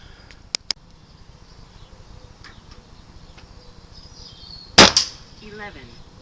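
A Webley LiteW8 air pistol fires through a magazine: two sharp, close snaps early on, then a louder crack followed by a short rattling tail, over a quiet background.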